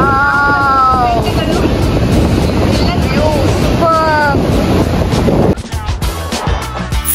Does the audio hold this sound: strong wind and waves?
yes